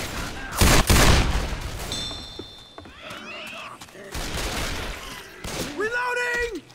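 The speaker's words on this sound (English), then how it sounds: "My house is defended by another sentry gun that defends me." Automated sentry gun in Left 4 Dead 2 fires a loud, dense burst of shots up front, then mechanical clicks, creaks and scattered in-game effects follow, with voices chattering in the background.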